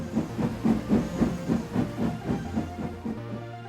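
Cartoon steam engine puffing away, a steady rhythmic chuff of hissing steam bursts about three per second, close and fairly loud, with a low steady tone beneath and no talking.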